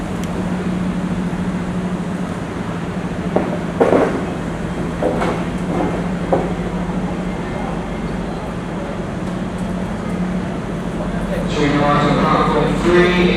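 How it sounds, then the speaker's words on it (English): A Southwestern Railway train pulls into a UK station platform, a steady low rumble and hum running throughout, with a sharper metallic squeal of brakes rising near the end; people talk nearby over the arrival. "the train coming in now is ending here"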